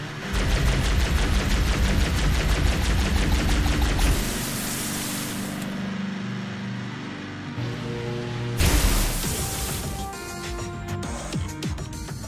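Plasma Pistol in Halo Reach firing loud, dense bursts of rapid energy shots with synthetic crackle, broken by short gaps and a shift in tone partway through, with no voices.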